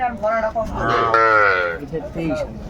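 Cattle, including small bulls and calves, lowing at a crowded livestock market in Madaripur, one loud drawn-out moo rising and falling close by, with people talking around it.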